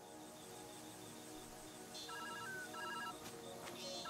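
A phone rings in a repeating electronic ringtone pattern, fairly faint, over steady dense background music and ambience, with no voices.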